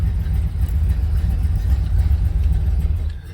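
A 1971 Buick Riviera engine idling steadily, a loud, close, deep rumble that holds even with no voices over it, easing off slightly at the very end.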